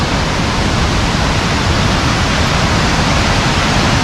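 Waterfall at Cachoeira de Bicuíba near Fervedouro, Minas Gerais: a steady, dense roar of falling water, loud and unbroken throughout, with no other sounds standing out.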